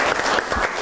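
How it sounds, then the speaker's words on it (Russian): An audience at a student anti-corruption talk show applauds, a brief burst of dense, close clapping filling the whole moment. "И вот, да, заслуженные аплодисменты."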